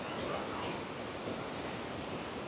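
Water pouring out from a waterfall in Chhattisgarh and running down into a gorge, a dense, even, constant roar with no breaks, steady and loud throughout.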